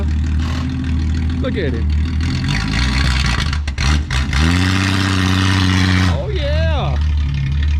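A 1962 Ford Falcon Tudor engine idles roughly, then revs up and holds higher before dropping back, with tires being turned over; people talk briefly over the close, loud engine.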